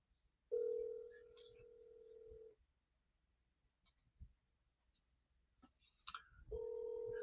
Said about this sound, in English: Come on, Cody, pick up the phone